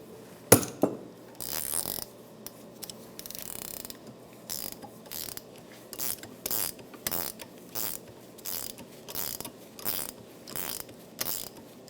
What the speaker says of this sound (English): I'm going to tighten this down till I see that bushing collapse the proper amount